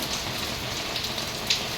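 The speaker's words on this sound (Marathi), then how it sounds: "आता बघा पावसाला सुरुवात झाली" Rain patters steadily, a dense even hiss of drops falling on surfaces, with no voices.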